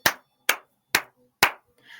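Four sharp, evenly spaced hand claps ring out close and alone in a quiet room, each crisp snap decaying quickly before the next, followed by a faint trailing sound.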